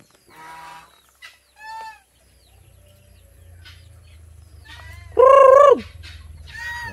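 Backyard hybrid heritage chickens cluck in short, scattered calls close by, with one louder drawn-out squawk near the end over a low background rumble.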